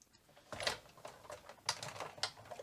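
A die-cutting machine cutting Whisper White paper labels with a precision base plate, giving a few sharp mechanical clicks and crunches spaced about half a second to a second apart, close and moderately loud.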